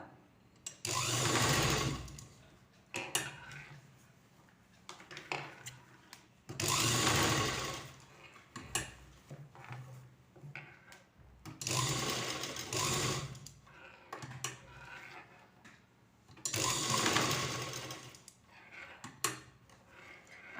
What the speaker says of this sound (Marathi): अशा प्रकारे आपल्याला ही हुक्काची घरं पण बनवून घ्यायची आहेत मशीनवरच